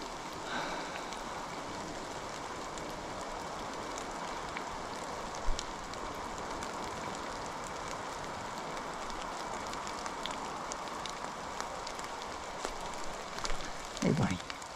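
Rain falls on the Appalachian Trail in a steady, even hiss that runs the whole way through. A few soft thumps and a brief rustle come near the end.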